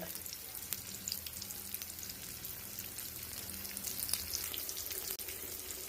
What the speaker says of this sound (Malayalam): മീൻ വറുത്തുകൊണ്ടിരിക്കുന്നുണ്ട്